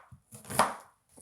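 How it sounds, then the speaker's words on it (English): A knife chops through an onion on a board for a jollof stew, giving a few sharp, close cuts with short gaps between them and no talking. "I'll be chopping this onion for our stew for the jollof."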